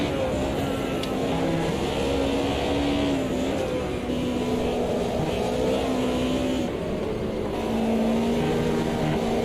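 A BMW race car in Automobilista 2 revs hard through close-ratio gears, its steady high engine note dipping only slightly at each shift, loud and continuous with no pauses.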